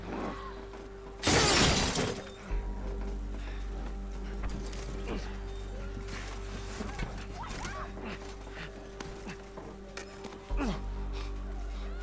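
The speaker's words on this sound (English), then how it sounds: "break the glass." Glass shatters in a loud, sharp burst early on in The Last of Us Part 1 game, followed by scattered debris and low background rumble with ambient game noise.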